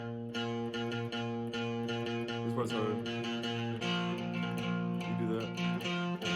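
An electric guitar with distortion plays a sustained, ringing riff with layered harmonics, close and steady, and a brief spoken comment over the playing.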